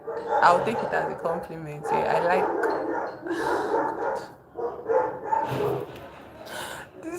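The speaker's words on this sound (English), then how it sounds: "So anyway, sorry for the noise of the dogs." Several dogs bark and yip in bursts at medium distance, scattered through steady conversational speech that largely masks them.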